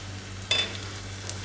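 Spices for Gujarati toor dal hit hot oil with a short burst of sizzling, then settle into a faint steady crackle over a low kitchen hum.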